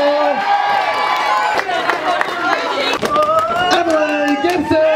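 A crowd cheers and applauds loudly for Emily Gibson at a nationals competition run, a dense continuous wash of clapping and voices with an announcer talking over it throughout.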